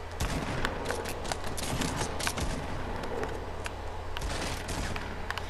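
Dense bursts of video-game gunfire, sharp cracks and rattling volleys piling up in quick succession at a moderate, steady level for several seconds, with no voices over them.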